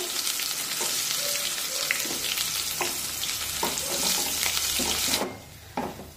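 Ground masala paste is sautéed in a pan, giving a close sizzling crackle with repeated spatula scrapes and knocks, then the sizzle drops away sharply near the end.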